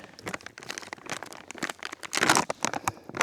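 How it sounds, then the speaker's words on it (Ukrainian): Plastic bag crinkling and rustling as fishing groundbait is mixed inside it during feeder fishing on a riverbank, with dense irregular crackles that swell louder toward the end, heard alone without talk. "Я, мабуть, прямо тут в пакеті замішаю."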